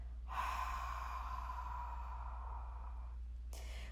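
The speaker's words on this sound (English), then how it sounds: "sustain it as you fog a mirror with your exhale" A long, forceful breath pushed out steadily during a core breathing exercise, close and breathy, fading after about three seconds, followed by a brief quick intake.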